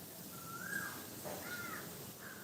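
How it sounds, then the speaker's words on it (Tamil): A crow caws a few times outdoors among trees in a breeze, the calls faint and distant over a soft background hiss. "காக்கா ஒரு பக்கம் கத்துது"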